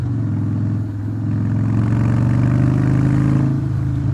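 A Harley-Davidson Breakout motorcycle with a 103 engine rumbles loud and close, its deep throaty growl rising steadily as it accelerates, with no voices.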